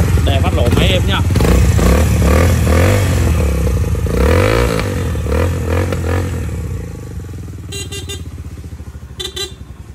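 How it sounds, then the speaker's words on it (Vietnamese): A Suzuki GZ 125cc motorcycle starts up and runs loudly at close range, with a voice talking over the engine and a few short beeps near the end. "Rồi, để phát đổ máy em nha"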